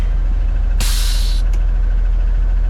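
A short, loud burst of compressed air from the fifth wheel dump valve on a K100 cabover truck in deep cold, followed by a brief second puff, against a steady low engine idle.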